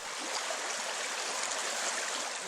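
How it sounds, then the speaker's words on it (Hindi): A river flowing down from the mountains, a continuous hissing rush of water at even, moderate loudness that holds steady throughout, heard alone with no talk. "पहाड़ों से बहकर आई ये नदियां हमारी पानी की जरूरत पूरी करती हैं।"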